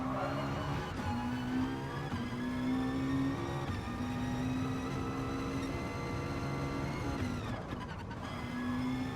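A race car in Gran Turismo Sport powers out of a corner on the Nordschleife, its engine whining loud and steady through rising gear pitches, with a brief tire or gearshift scrub near the end and no talk.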